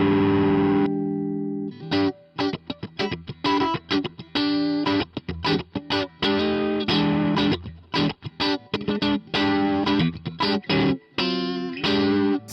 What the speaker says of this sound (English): I'm going to use a different overdrive pedal on a cleaner tone. And this is the Dualist by King Tone